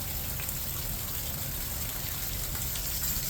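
Rainwater runs steadily off a roof onto the ground below, a continuous gushing splash with a broad steady hiss, near and unbroken.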